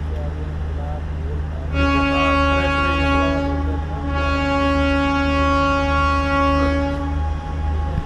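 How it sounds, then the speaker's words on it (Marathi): A train horn sounds on a passenger train bound for Srinagar, Kashmir, in cold winter weather: two long, loud, steady harmonic blasts close by, separated by a brief gap, over a low rumble with some voices in the background. "चला आता आपल्या ट्रेनने हॉर्न दिलेला आहे"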